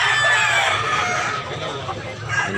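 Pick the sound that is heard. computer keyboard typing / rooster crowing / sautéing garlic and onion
rooster crowing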